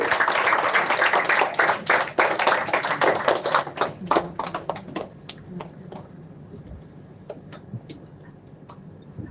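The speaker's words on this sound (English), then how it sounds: "Can we give them a big round of applause?" An audience at a children's literature festival theatre show gives a burst of applause, loud and dense at first, then thinning into scattered individual claps that fade out toward the end.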